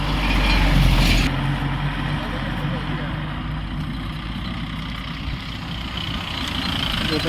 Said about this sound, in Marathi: आणखीन एक मोठा टँकर आहे पुरवून आलेला आहे गोकुळचा टँकर आहे बहुतेक